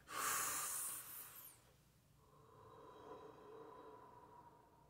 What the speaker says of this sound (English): Breathe with me.